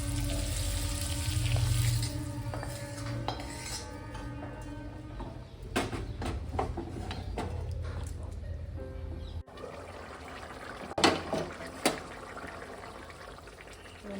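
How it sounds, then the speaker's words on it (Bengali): A paneer navratna curry with fried paneer, capsicum and tomato bubbles as it boils in a pan, a soft continuous simmer with faint liquid gurgles and a few sharper clinks near the end. "ফুটে এসছে"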